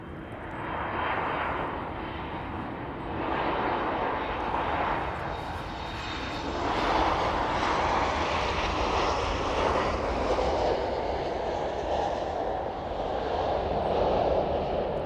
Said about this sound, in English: let's focus on the inbound Ryanair service